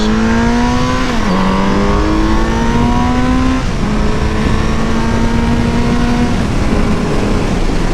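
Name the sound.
Kawasaki Z900RS motorcycle engine revving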